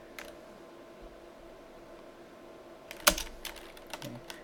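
Keystrokes on a computer keyboard, typing a short command in Windows: a cluster of quick, fairly close clicks near the end after a quiet stretch with faint room hum.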